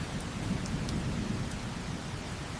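Heavy rain pours steadily throughout while low thunder rumbles underneath, forming a dense, continuous storm wash with no voices.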